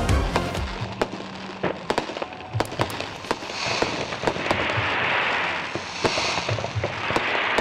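Fireworks at Sydney's annual light festival pop and crackle in scattered bursts, with sharp bangs over a hissing, sizzling wash of sparks.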